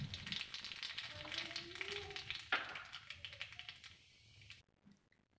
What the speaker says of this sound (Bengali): তেজপাতা, শুকনো লঙ্কা আর কালো জিরে ফোড়ন দিয়ে দেব।